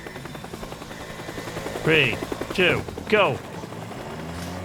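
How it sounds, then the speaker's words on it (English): A helicopter in the video game Teardown drones steadily in the background while a voice counts down and shouts over it. "Even though the helicopter's there, it's still doable."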